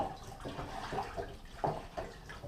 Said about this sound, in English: Put some cold water in there and maybe some fairy so that it makes it easier to wash up